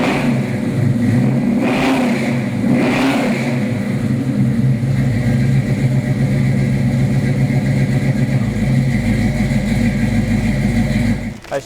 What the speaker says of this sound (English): how about I go ahead and start it for you so you can hear what it sounds like